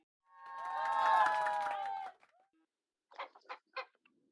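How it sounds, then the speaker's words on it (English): A hen clucks loudly in a long, harmonic cackle, followed after a short pause by three brief, sharp clucks. "Hen."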